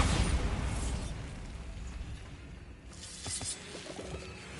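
The Bombarda blasting spell in Hogwarts Legacy goes off as a loud, rumbling explosion that slowly fades, followed by a second, smaller burst of crackling debris.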